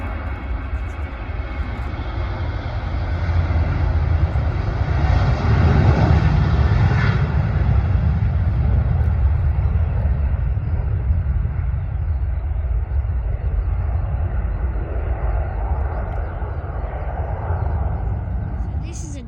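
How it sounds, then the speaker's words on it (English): Engines of a Turkish Airlines Boeing 737 jet at an airport produce a continuous loud roar that swells midway and slowly fades, with a voice talking over part of it. "Anadolu jet operated by Turkish Airlines. It's going to Istanbul, Boeing 737."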